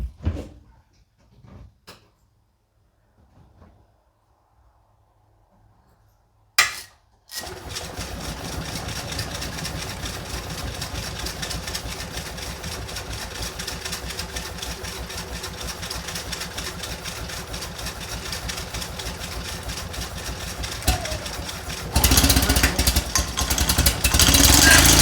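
Invacar engine being cranked and started: a few brief clicks and a short bang, then quiet, then the small engine catches and runs with a steady, buzzing idle that continues close by, with a louder surge near the end.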